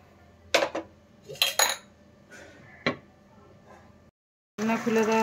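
A cooking pot in a home kitchen, simmering a vegetarian jackfruit curry, gets its metal lid set on with a few sharp clinks and clatters. Faint kitchen noise runs underneath, then a short silence.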